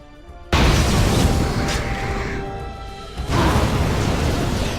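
A booming blast as an abomination dies in Dragon Age Origins, a sudden loud burst that rumbles on, followed by a second surge of roaring noise.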